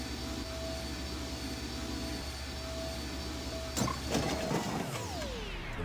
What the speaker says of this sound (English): The metal in the fork short-circuited the engine wiring.